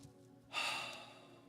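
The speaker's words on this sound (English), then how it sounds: "Please take a few centering breaths." A single calm centering breath during a meditation session: a soft, airy exhale that rises suddenly, close to the microphone, then slowly fades.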